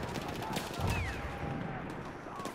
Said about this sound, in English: Someone shooting from up here.